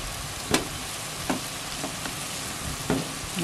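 Glutinous rice being stirred in a wok of simmering salted coconut milk, with a soft continuous bubbling sizzle and a few distinct scraping stir strokes at spaced intervals, fairly close, no talking.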